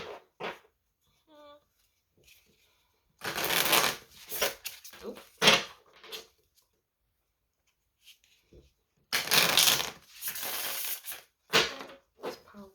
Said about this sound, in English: I'm going to draw some oracle cards for you